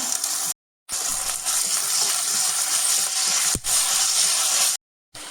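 Ginger-garlic paste sautéing with curry leaves and salt in a pan, a steady loud sizzle broken by brief silent gaps, with a short scrape of stirring partway through.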